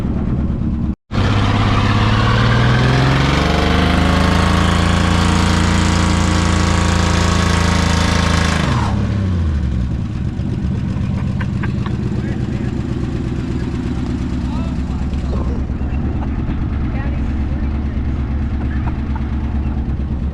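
A Dodge Challenger's engine rumbles loud and close, a revving rise in the first seconds settling into a steady idle, with people talking over it.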